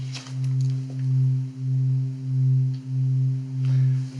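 A steady low sine tone from a Hordijk modular synthesizer swells and dips in smooth, regular waves about every second and a half as it is slowly panned, loud and alone with no talk.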